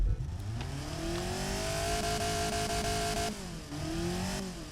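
Boxy Hyundai Atos with a small engine on ethanol blend, driven in BeamNG, revs steadily with a rising harmonic whine, holds high, briefly drops off, then climbs again, loud and close with no talk.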